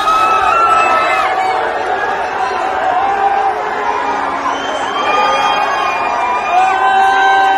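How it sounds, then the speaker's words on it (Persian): Crowd of fans cheering and shouting as a Persepolis goalkeeper boards the team bus, with high-pitched whoops and excited chatter; a dense, loud, continuous roar that swells and holds throughout. "علیرضا بیرانوند هم بگیم که در بین تشویق تماشاگرا سوار اتوبوس شد"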